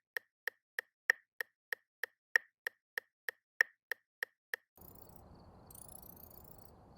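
Phasmophobia video game Thaye ghost footsteps, thirteen evenly spaced thuds at about 190 bpm, crisp and steady, followed by a diffuse hiss of room ambience.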